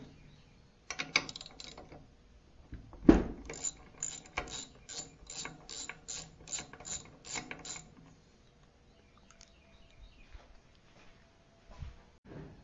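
A ratchet wrench loosens the spark plug on a small engine being taken apart: a quick burst of clicking, a heavier knock, then a steady run of about a dozen rhythmic ratchet clicks, close and fairly quiet, with a few faint clicks afterward.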